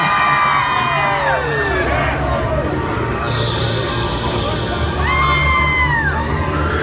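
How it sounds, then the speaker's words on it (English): A crowd at a haunted-attraction show cheers and screams continuously, loud and dense, with a few high shrieks rising above the roar. "Scream as loud as you can."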